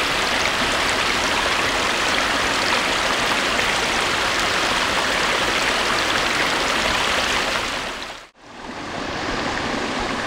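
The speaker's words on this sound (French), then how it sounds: "L'eau est ensuite retournée au jardin d'eau par le biais d'une cascade qui s'écoule tout doucement jusque dans l'étang principal" Water from a garden water-feature cascade pours gently into the main pond, a steady broadband rush of flowing water filling the whole stretch, cutting out abruptly for a moment near the end before resuming.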